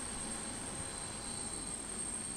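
In American Truck Simulator, an airplane drones steadily overhead as an even, sustained engine roar with a faint high whine and no breaks.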